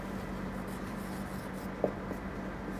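Faint scratchy marker or chalk strokes on a classroom board during an Arabic lesson, soft rubbing under a low hum with one brief sharper tap near the end.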